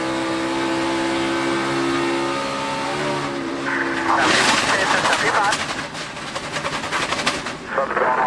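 A NASCAR Sprint Cup race car blows a tire and spins out during a 2015 race, engine roaring loudly before a harsh burst of broadband noise and ragged tearing rumble, with a race commentator talking over it.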